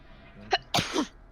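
A person sneezes close to the microphone: a short sharp intake, then one loud, explosive sneeze that trails off quickly.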